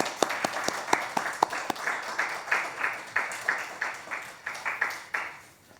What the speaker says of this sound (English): It's a bit strange to actually be clapping with such a small audience